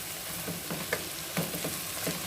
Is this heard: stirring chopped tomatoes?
yes